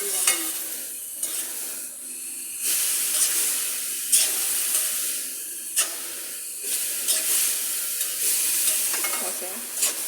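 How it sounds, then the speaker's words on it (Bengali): A mixture being stirred and fried together with fried vegetables in a pan, a steady bright sizzle with repeated spoon scrapes at irregular intervals and no voices. "আমরা এটাকে ভালোভাবে মেশাবো, ভাজিটার সাথে একদম মিশিয়ে"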